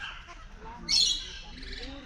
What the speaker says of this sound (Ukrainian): Тут якась жовта папуга. Ось така. Золотий паракет.